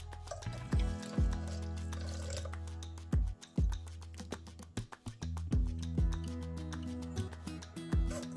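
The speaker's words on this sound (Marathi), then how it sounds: "चमच्याने गाळून घेऊया असं।" Beetroot and carrot juice with a little added water pours and trickles through a sieve while a spoon stirs and scrapes it, giving repeated wet drips and soft clinks close up, with no talking.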